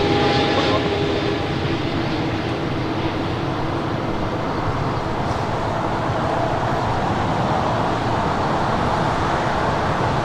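A China Airlines Boeing 777-300 jet inbound from Taipei lands at LAX, its loud, steady engine roar filling the whole stretch with broadband rumble and no pauses.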